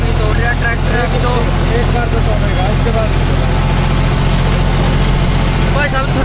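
A John Deere 5310 tractor engine runs at a steady, loud diesel drone that stays constant and unbroken throughout, with faint voices underneath.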